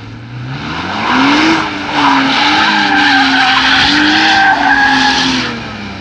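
A BMW E46 with an open differential slides sideways, tires squealing loudly with a wavering pitch over the engine's revving drone for several seconds.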